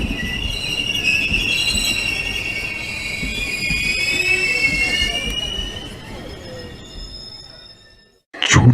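A train runs steadily along the rails, loud and continuous with metallic wheel squeal, then slows and fades toward a near stop before a brief loud burst at the end.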